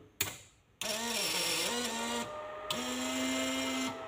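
Servo motor of a V-Boost controller for a Yamaha VMAX 1200 running its check cycle, a close, steady electric whine with brief pauses and pitch shifts as it moves, alone without talk.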